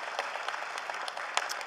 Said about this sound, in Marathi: टाळ्या वाजवा दोघींच्यासाठी.